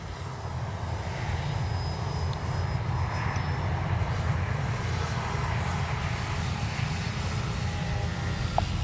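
RC Dynam DHC Beaver V2 model airplane flying with takeoff flaps set, its electric motor and propeller giving a steady, continuous drone at moderate distance for the whole stretch, with no talking.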